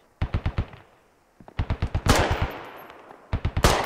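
Gunfire from the video game Squad comes in rapid automatic bursts of four or five sharp shots. The bursts are separated by short pauses, and two louder, denser bursts stand out near and close by.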